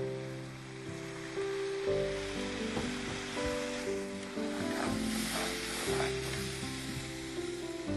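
Masala with green cardamom, cloves and black pepper sizzles as it fries in a pan, giving a constant crackling hiss broken by soft stirring scrapes, close and steady throughout.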